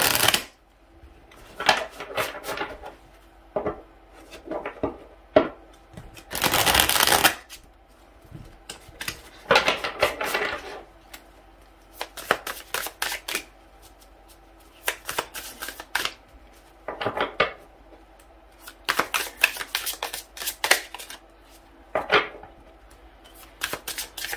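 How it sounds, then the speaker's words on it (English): Repeated bursts of tarot cards being riffled and shuffled, crisp papery flutters coming in irregular clusters with short pauses, close and fairly loud, no talking. "I'm going to shuffle the cards to cleanse the energy real quick"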